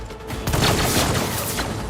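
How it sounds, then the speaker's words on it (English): Gunfire in the Rogue Trader video game, a dense burst of rattling shots over a noisy battle wash lasting about two seconds, loud and continuous with no speech. "see if we can get some lucky shots in"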